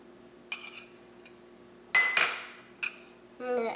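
A spoon clinks against a dish while turmeric is added to shrimp, giving a few sharp, separate metallic taps with quiet gaps between them.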